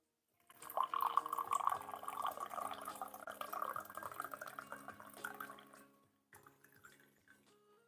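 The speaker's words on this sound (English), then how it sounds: "Pour tea into this teacup, the teapot." Tea streams steadily from a small teapot into a teacup for about five seconds, a bright continuous trickling pour, then a brief second splash after a pause; Yunnan wild black tea is being served.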